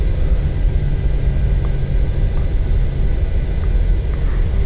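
Boeing 737 in the PMDG flight simulator taxiing toward runway 24 left at Los Angeles: a steady, loud jet engine hum and low rumble holding even throughout, with faint higher tones drifting in and out.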